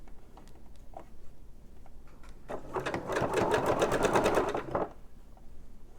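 A sewing machine stitches fabric ruffles in a single quick run of rapid, rhythmic mechanical clatter lasting about two seconds, close and clear against a quiet room with faint handling sounds before and after.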